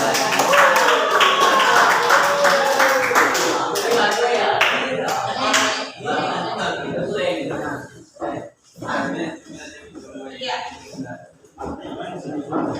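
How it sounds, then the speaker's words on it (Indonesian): Applause from students during a history class session, a burst of clapping with chuckles that fades after several seconds into quieter scattered taps and movement. "Mari kita berikan aplaus untuk ya."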